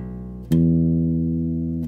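Bass guitar notes in a smooth legato line for a song, a sustained tone that shifts pitch without a gap, starting softer and swelling after a brief attack.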